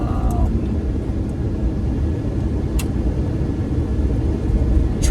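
A car driven on the road with a motor of roughly 300 to 400 horsepower gives a steady, loud interior rumble of engine and road noise, unbroken, with a couple of faint clicks.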